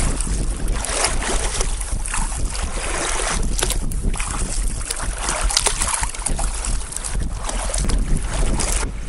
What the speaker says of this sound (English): There's a bit of wind, a bit of chop, but it's not too bad.